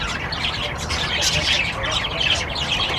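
A large restaurant aviary holds many birds chirping, tweeting and squawking without pause in a dense, loud chorus, with faint human voices under the calls.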